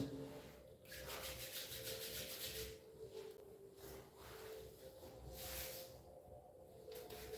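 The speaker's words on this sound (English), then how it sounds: "So you can rub your hands again and again, a number of times." Palms rubbed together in a yoga class, a soft, steady friction swishing in several bursts with brief pauses, fairly close and quiet.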